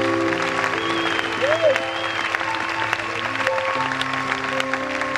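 A church congregation gathered in an amphitheatre claps in acclamation during a healing service. Steady, dense applause runs throughout, with sustained tones and voices mixed in beneath it.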